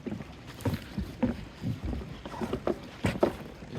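A safari boat heads out from the Jungle Lodges Devbhag resort near Karwar toward the Kali Mata temple, with irregular wind buffeting and water slaps sounding in uneven bursts close to the microphone.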